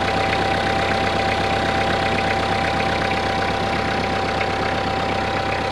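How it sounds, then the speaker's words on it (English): A Kubota L3940 cab tractor's diesel engine idles steadily up close after a cold start, a smooth, even rumble with a faint tick running through it, unchanging throughout. "this is how smooth and quiet this Kubota runs after just a couple minutes of running"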